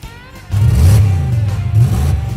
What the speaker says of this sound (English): We have exhaust leaks, hear them?